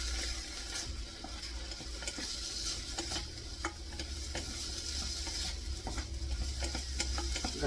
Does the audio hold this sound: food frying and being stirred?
yes